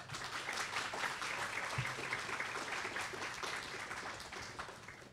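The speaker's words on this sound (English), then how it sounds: "please give a hearty round of applause to Mr. John Robinson" Faint, steady applause from a seminar audience welcoming a guest speaker, a distant wash of clapping that carries without a break and with no talk over it.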